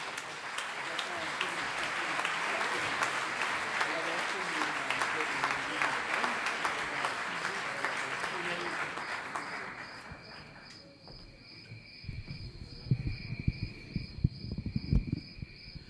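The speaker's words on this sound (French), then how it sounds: "Merci d'applaudir très fort Ernest Pignon" Sustained applause from an audience at a storytelling evening, steady and fairly full for about ten seconds before fading out, leaving a quiet room with a faint hum and some voice.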